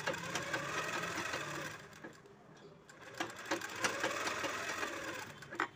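A sewing machine stitches the edge hem of a saree in quick mechanical bursts, pausing briefly midway before running again, fairly quiet and close with no talk over it.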